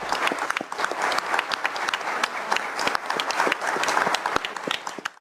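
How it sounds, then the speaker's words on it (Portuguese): A standing ovation fills a session of Brazil's Supreme Federal Court: dense, sustained applause from a crowd of many hands, loud and close, with no break for the whole stretch. "Rosa Weber foi aplaudida de pé."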